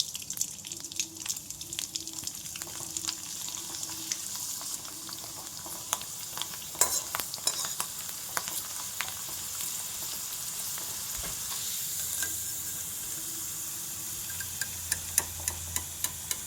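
Sun-dried rice flour flowers deep frying in hot oil, a steady sizzling hiss with occasional stirring and clinks, close and continuous with no talking.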